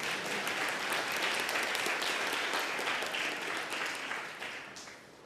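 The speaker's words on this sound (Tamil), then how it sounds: "ஒரு கைதட்டு கொடுக்கலாமா?" Church congregation clapping during a Sunday service special program, a full, sustained round of applause that fades toward the end, fairly soft overall.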